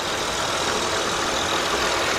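A 2004 Honda Accord 3.0 V6 held at a steady fast idle with a little gas while a wheel spins freely on its own, a continuous engine drone with broadband whir, close and unbroken with no voices.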